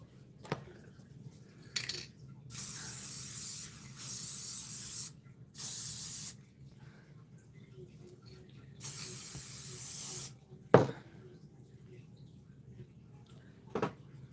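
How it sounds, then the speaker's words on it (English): An aerosol can sprays the back of fabric pieces in four hissing bursts, each lasting a second or two, with soft handling clicks and taps between them. "I don't know why I sprayed the entire back of the exterior pieces"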